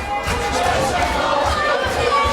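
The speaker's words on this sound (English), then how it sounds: "The McCarthy crowd coming alive again there." Loud, continuous crowd roar and cheering at a WKO kickboxing title bout between Nathan McCarthy and James Watling, swelling steadily across the whole moment with no break.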